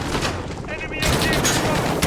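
Enemy machine gun fire rattles in rapid, dense bursts during a Modern Warfare firefight, loud and continuous, with shouted voices mixed in.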